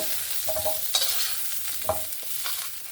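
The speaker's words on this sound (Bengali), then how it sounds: "ফুলকপি আর আলুটা সুন্দরভাবে ভেজে নিয়েছি। এবার তুলে নেব।" Cauliflower and potatoes fry in hot oil with a steady close sizzle, broken by a few scraping stirs of a utensil in the pan.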